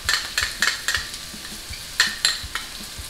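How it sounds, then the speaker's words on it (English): Tomato paste sizzles in a braising pan for red wine braised short ribs, with a steady hiss and repeated clinking scrapes of a utensil stirring against the pan, close and loud, with no speech. "All right, tomato paste goes in."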